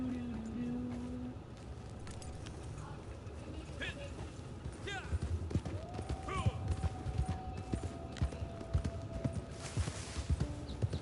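Horse hooves galloping in the Red Dead video game, a steady rhythmic clip-clop growing more pronounced under continuous game sounds and a voice talking throughout.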